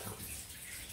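Water runs steadily from a tap over a disposable razor with a gooey glide strip, a continuous close splashing hiss for about a second.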